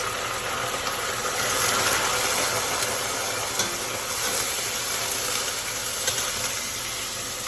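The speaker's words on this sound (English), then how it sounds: "once the yogurt goes in, it's going to make a lot of sizzling noise and splatters as well." Yogurt hitting a hot pan of onions and green chili gives a steady, dense sizzle with crackling splatters, continuous and fairly loud throughout without any talking.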